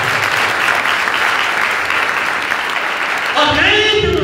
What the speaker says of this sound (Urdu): تالیاں بجائیں گے.